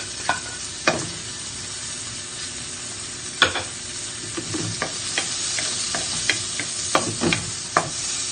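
Garlic with a little tomato sizzles in a pan for an ampalaya con carne stir-fry, a steady frying crackle broken by sharp scrapes and clinks of stirring, with no talking.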